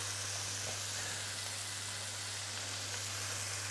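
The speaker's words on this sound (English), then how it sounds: "Nice, lovely sizzle." A steak sizzles steadily in a hot pan with a dab of coconut oil, making a close, even hiss and crackle that continues without pause.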